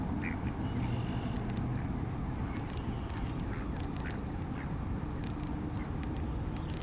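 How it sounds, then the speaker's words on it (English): A group of ducks quacks steadily while eating shells as they are fed outdoors, the calls overlapping and close over continuous low rustling and background noise. "They're funny ducks."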